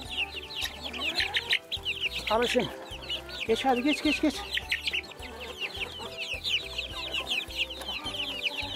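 Chickens cluck and chirp busily in a coop, a dense, close chorus of overlapping calls while someone speaks and shoos them along.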